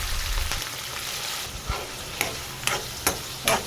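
Chicken liver dropped into hot oil in a pan and fried, a continuous close sizzle with a series of crisp spatula taps and scrapes against the metal, no talking.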